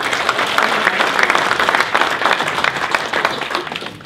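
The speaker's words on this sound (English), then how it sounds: "how about another round of applause for everything you do now?" A loud, dense wave of audience applause fills a hall during a Latino voter outreach event, continuous and full from start to end with only a slight easing at the close.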